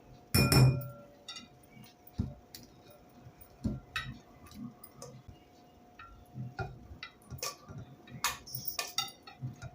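A spoon stirs spices for raw mango pickle in a bowl, giving an opening sharp clink followed by a run of light, irregular ticking and scraping taps of metal against the container, close and fairly quiet.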